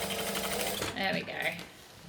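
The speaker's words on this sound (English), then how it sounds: "So we're stitching the lining and the exterior together so it becomes one piece" Close, steady whirring of a sewing machine stitching a bag's lining and exterior together into one piece, running continuously for a couple of seconds under spoken talk.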